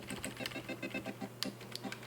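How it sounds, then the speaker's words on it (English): Rapid, crisp clicking of computer keyboard keys, a quick rhythmic run of close-up key presses in a quiet room during video editing, with a few sharper taps near the end. "I'm going to hit I on my keyboard"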